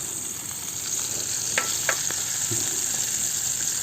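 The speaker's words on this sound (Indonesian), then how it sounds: "Karena aku nggak pernah goreng ikan." Salted fish frying in oil over a flame, a constant loud crackling sizzle with a few sharper pops and light scraping clicks from stirring, close up and without speech.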